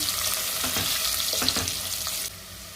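Bottle gourd and dry fish curry with chilli powder is stirred in a hot pan, giving a loud close sizzle with rhythmic spoon scrapes, then the hiss drops quieter near the end.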